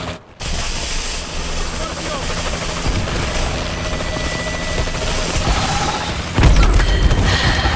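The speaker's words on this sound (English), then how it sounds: "Enemy warbird above." Enemy warbird aircraft overhead in the video game Call of Duty Advanced Warfare, a continuous loud rotor-like engine drone that swells near the end, with gunfire and other game sounds mixed in.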